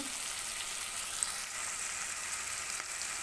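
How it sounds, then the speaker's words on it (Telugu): Onions frying in a pan for restaurant-style egg biryani give a soft, steady sizzle with a faint hiss throughout, quiet and even, with no voices. "ఇలా వేగుతున్నప్పుడు ఇందులో కొంచెం సాల్ట్ వేసుకున్నామంటే ఆనియన్స్ కొద్దిగా త్వరగా మగ్గుతాయి"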